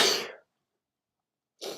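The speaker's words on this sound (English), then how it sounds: "Excuse me, I may sneeze." A person sneezes during a spoken session: one sharp, loud burst fades quickly into silence, and a second breathy burst follows about a second later.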